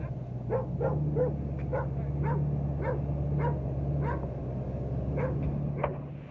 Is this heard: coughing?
no